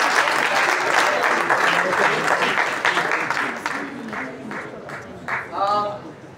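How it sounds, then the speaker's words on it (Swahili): Audience applause for the Tahidi High actors at a tribute event, broad clapping that swells then thins out over several seconds, with scattered voices and a few bright calls near the end. "Amazing, wapigie makofi."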